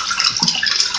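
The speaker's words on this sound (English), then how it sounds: "Now the water is still coming out" Water runs steadily in a Kohler toilet tank, a continuous hiss-like flow with no pauses and no talking.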